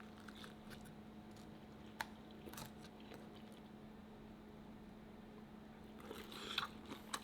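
Crispy tangsuyuk, Korean sweet and sour pork, crunches under a few sharp bites followed by soft chewing, close and fairly quiet, the crisp bites spaced out over a faint steady background hum.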